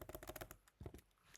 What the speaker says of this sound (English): Some kind of typing.